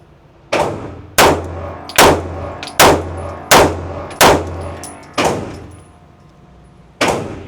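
Eight sharp, loud pistol shots ring out from a Kimber 2K11 Comp with a 5-inch barrel, fired at a steady pace of roughly one per second. There is a short pause before the final shot.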